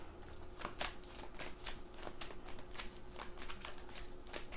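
A deck of tarot cards is shuffled by hand, with quick riffling and rapid card flicks repeating steadily at close range against a faint background hum. No one speaks.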